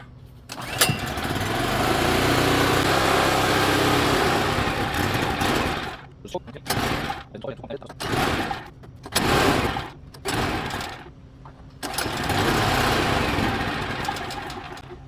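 A portable generator engine runs after being cranked on choke, a steady buzzing drone that surges, then stutters and cuts out in uneven bursts before picking up again, with a voice talking over it.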